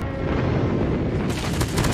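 Airstrike explosions and gunfire in a mobile shooter game's tournament mode form a dense, loud barrage of booms and rapid shots that roll continuously through two seconds.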